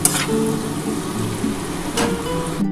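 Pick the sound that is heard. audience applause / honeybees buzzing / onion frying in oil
onion frying in oil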